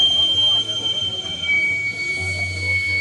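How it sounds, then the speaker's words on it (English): A pressure cooker whistles in a long, steady, piercing tone that carries on throughout, fairly loud and with no speech over it. "We'll wait for the pressure cooker."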